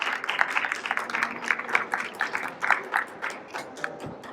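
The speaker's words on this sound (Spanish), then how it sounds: "recibamos a nuestros invitados con un fuerte aplauso" A crowd applauding with steady, dense clapping that holds for several seconds before tapering off.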